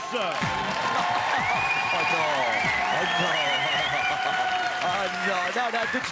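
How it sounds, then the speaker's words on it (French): A studio audience on a French TV game show applauds and cheers, with steady clapping and crowd noise throughout while voices and music carry over it. "Applaudissons et faisons du bruit pour Crésus."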